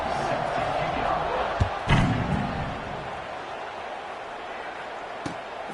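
A football stadium crowd before kickoff, a steady broad roar with a couple of sharp thumps, the crowd noise continuous and moderately loud throughout.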